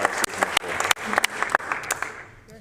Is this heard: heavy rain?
no